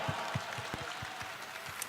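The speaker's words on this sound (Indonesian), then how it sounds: "boleh kita berikan tepuk tangan yang paling meriah untuk mereka." Sparse, scattered clapping from a talk-show audience at a Vesak Festival honoring three speakers, a handful of separate claps spread over a couple of seconds rather than a full ovation.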